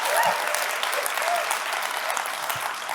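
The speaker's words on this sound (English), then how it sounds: "Give a round of applause" Audience applause at a public event with Governor Inslee, a dense, steady roar of many hands clapping at close range for the full three seconds, with a few faint cheers mixed in.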